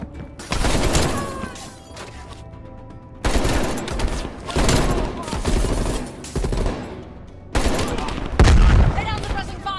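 Dense gunfire in Call of Duty: Black Ops Cold War, sustained bursts of automatic fire in three long stretches separated by short gaps, with a heavy boom near the end, loud and close under occasional shouted voices.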